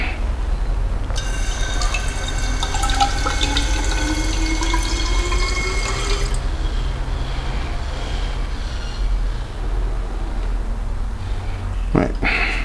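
Water is poured into a measuring cylinder until it is about half full, a continuous close trickle whose pitch rises steadily as the vessel fills, followed by a brief knock near the end.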